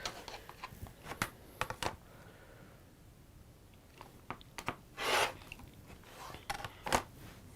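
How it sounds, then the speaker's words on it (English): Scissors snipping sewing threads at a quilting workbench: a quiet, close series of sharp clicks and snips in two bursts with a short lull between. "I'm just going to cut those threads."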